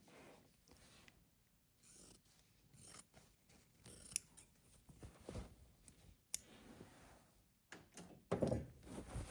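Scissors snip through fabric while trimming seam allowances on a June Tailor kit project bag: a series of short, crisp cuts in irregular bursts, close and fairly quiet, with light handling clatter between them.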